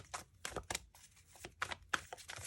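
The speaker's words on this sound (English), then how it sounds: "Why am I shuffling these? They were shuffled, you know." Tarot cards shuffled by hand, close and fairly quiet, in short papery riffling bursts separated by brief pauses.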